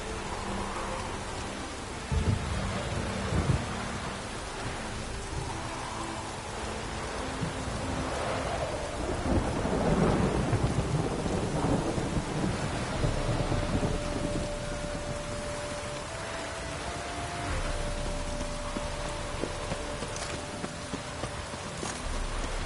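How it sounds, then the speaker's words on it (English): A thunderstorm in The Witcher 3 pours steady rain on surfaces while low thunder rumbles swell and fade, with hoof clops and faint tones in the background. "A storm, damn it."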